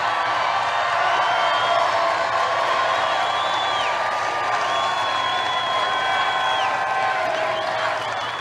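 Rally crowd cheering and whooping in a steady, dense roar across the whole stretch, with whistles and calls rising above it and scattered clapping.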